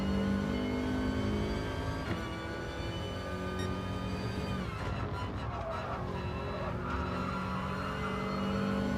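A Nissan GT-R race car at Fuji howls past with a sustained, high engine tone that shifts pitch as it goes by, layered over the steady drone of other racing engines.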